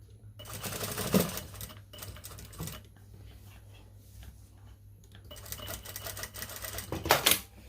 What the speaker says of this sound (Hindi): अब हमने इसके ऊपर सिलाई लगानी है इस तरह से